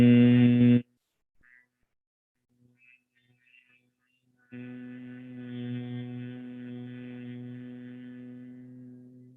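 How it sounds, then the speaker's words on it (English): People hum during yoga breathing: a loud, steady nasal hum that cuts off abruptly, then quiet gaps with faint breaths, then a long sustained hum rising and holding. "Breathe in deep and make the humming sound."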